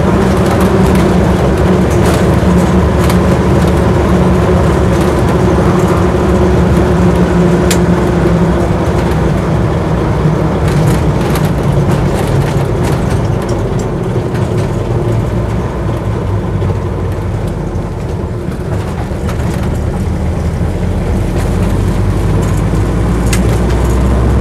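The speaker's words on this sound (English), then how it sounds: "Tyres do make a bit of a whine" A Land Rover Series 1 86-inch soft top driving along, its steady road and engine rumble carrying a continuous tyre whine throughout, loud and close with no talk.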